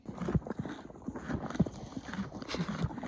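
Horse hooves clip-clopping at a steady walking pace, fairly close, with faint background murmur, on Mount Teide, Tenerife.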